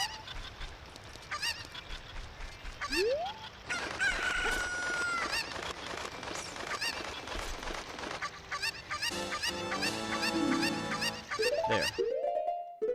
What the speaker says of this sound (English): So many chicken noises, my god.